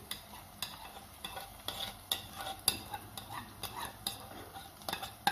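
Onions and salted fish (Sudanese fesikh) stirred in a frying pan, with a steady sizzle under repeated, rhythmic scrapes and taps of a utensil against the pan, close and moderately loud, with no talking.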